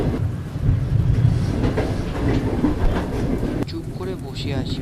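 A train sound effect for a ghost story: a continuous loud rumbling clatter of a running train, with a change near the end as a rain-like hiss comes in.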